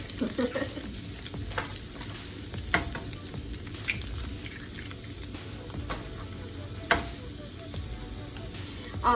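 Chorizo and eggs fry in a pan with a constant sizzle and crackle, broken by occasional sharp clicks and spatula scrapes, close up with no voices.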